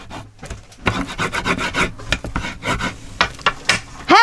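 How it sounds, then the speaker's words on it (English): A paper craft piece for a mini album is burnished with quick, close, rhythmic rubbing strokes, loud and repeated with no talk. "let's flip it over this way and give it a good burnish"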